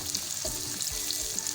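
Onion frying in a pan with cumin seeds, a close, steady crackling sizzle with a few soft stirring bumps.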